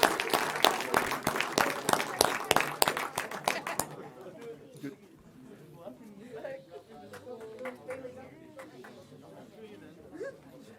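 Audience applause at a city council meeting rings out in quick, loud rhythmic claps for about four seconds, then fades into murmuring chatter and voices in the chamber.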